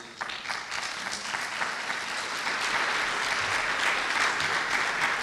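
A room full of people applauding at a community luncheon honoring a retiring police chief, the clapping swelling slightly louder toward the end, continuous and without talk.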